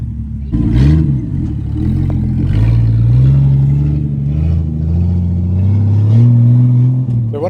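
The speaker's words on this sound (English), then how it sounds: "give it a rev" A Jeep TJ engine revs up with a loose, slipped-out exhaust, its loud rumbling drone rising and settling through several throttle blips, with a rattly, blatty edge from the disconnected pipe.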